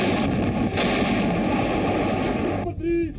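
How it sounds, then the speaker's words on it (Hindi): Artillery shelling on the Kargil war front sounds as a dense, loud, continuous roar of blasts and rumbling fire, broken near the end by a brief higher whining tone. "ये वो जगह है जहां दोनों पक्षों के बीच लगातार बिना रुके कई दिनों से गोलाबारी हो रही है"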